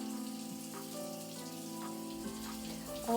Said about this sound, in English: taking out the braids, and going to rinse out the hair